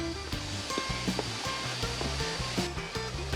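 Saeng Chan waterfall in Ubon Ratchathani runs full in the rainy season, a continuous broad rush of falling water heard close and loud without pause.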